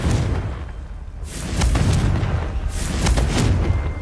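Confringo spell blasts in the Hogwarts Legacy video game: loud, deep booming explosions with broad crackling bursts, two or three heavy hits rolling one into the next.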